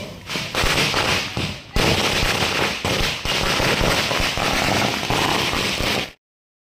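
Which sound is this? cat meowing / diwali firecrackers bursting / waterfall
diwali firecrackers bursting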